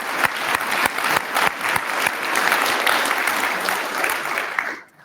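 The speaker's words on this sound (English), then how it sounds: "can we do another round of applause?" Applause from an audience at an Air Force cyber change-of-command ceremony, a strong, steady clapping that fills the room with a few sharper individual claps, then fades away at the end.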